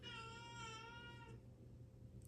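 A domestic cat meows once in a drawn-out, rising and falling call, faint and close, followed by quiet room noise.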